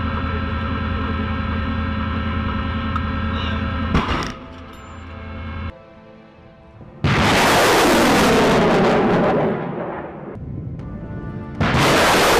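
ATACMS tactical missile launched from an M270 MLRS armored multiple rocket launcher: a steady engine rumble gives way to loud, roaring broadband blasts that fade slowly, then a second roar begins near the end.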